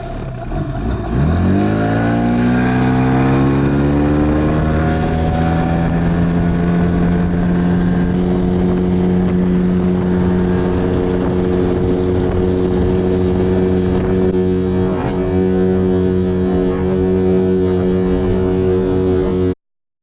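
A Suzuki 15 outboard motor on a Flagman DK-350 boat carrying one person roars up in pitch as the boat gets going, then holds a loud, steady high-speed drone for a long stretch before cutting off.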